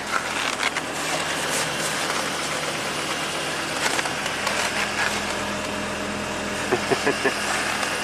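A 2005 GMC Canyon engine idles steadily after a cold start at minus 13, a continuous even rumble with a few faint clicks and knocks near the end, no voices over it.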